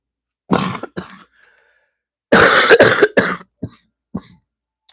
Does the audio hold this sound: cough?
yes